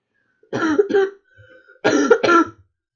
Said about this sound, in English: my cough's really bad